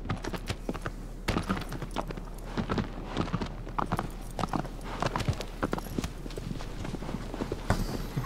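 Horse hooves clip-clop in Shadow of the Colossus Remastered, an even, steady walking rhythm of sharp, close knocks. The beat carries on throughout with faint background sound.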